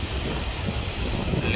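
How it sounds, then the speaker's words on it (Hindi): Sea waves wash against the rocks along the shore at Dwarka in Gujarat, making a steady, dense roar with some wind buffeting the microphone. "सिर्फ समुंदर का शोर है और कुछ नहीं है"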